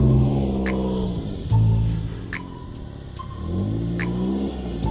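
A car on deflated tyres revs and drives off, its engine rising and falling in a few loud surges over a steady low rumble, close by with no talk.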